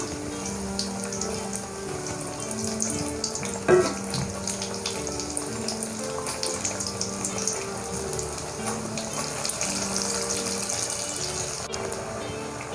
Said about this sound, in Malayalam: ഒരു മീഡിയം ഫ്ലെയിമിൽ വെച്ചിട്ട് ഫ്രൈ ചെയ്യുന്നതായിരിക്കും നല്ലത്.